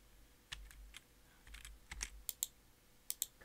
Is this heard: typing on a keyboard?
yes